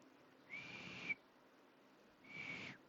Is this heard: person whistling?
yes